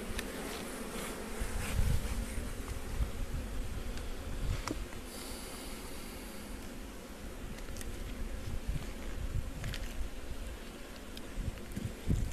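Honey bees buzz around an open hive in a continuous, dense drone during beekeeping work on the brood box, with occasional close knocks and light rustling.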